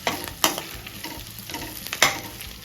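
Onions sautéing in a pan while a leftover-idly Manchurian is cooked, a steady low sizzle broken by a few sharp scraping stirs near the start and end, close by with no talk.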